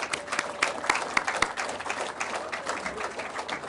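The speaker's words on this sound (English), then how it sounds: "Would all those seated please give a huge round of applause for everyone standing?" A seated conference audience applauds for those standing, producing a lively spread of close and distant claps with a few sharp individual hand strikes and no talk over it.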